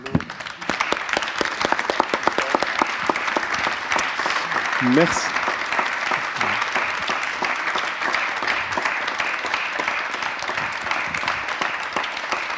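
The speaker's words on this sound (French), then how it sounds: "je pense qu'on peut quand même applaudir" An audience applauds after a talk at an opera-related event, with sustained, dense clapping that keeps going throughout. A voice briefly speaks over it near the start.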